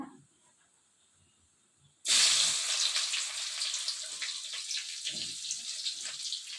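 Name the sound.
chopped onions frying in oil with mustard seeds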